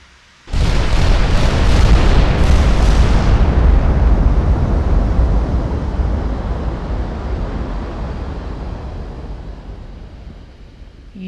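A single huge, close boom from naval gun turrets firing in Ultimate Admiral opens the sound, followed by a long rumbling roar that slowly fades over many seconds.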